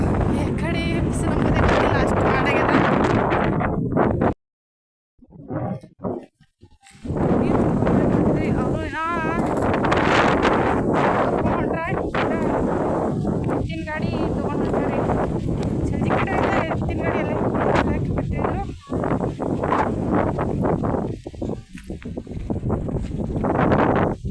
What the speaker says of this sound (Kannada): ಗಾಳಿ ಅಂತೂ ಭಾಳ ಬಿಟ್ಟಿದ್ರಿ